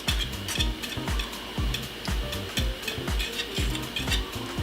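A whisk scrapes steadily around a pot of haupia pie filling over low heat, a rhythmic, close clatter of strokes roughly twice a second with a faint bubbling sizzle underneath, no talking.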